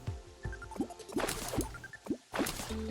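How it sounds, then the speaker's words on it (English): Chum buckets thrown into water in the Terraria game make a quick run of wet drips, plops and splashes, mixed with short rising chime-like game tones, close and fairly loud. "I can throw some chum buckets into the water here"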